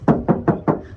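Four evenly spaced knocks on the body panel of a lifted Toyota Vigo manual pickup, struck close by hand in a steady rhythm with a short pause before the last.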